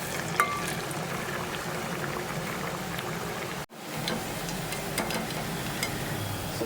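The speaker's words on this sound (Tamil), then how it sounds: "எடுத்துட்டு இது அப்படியே ஹாட்டாக இருக்க ஆயிலில் போட்டுருங்க" Athirasam dough, a sweet rice-flour dough, fries in hot oil with a steady bubbling sizzle and small pops. The sound cuts out sharply for an instant partway through and then carries on.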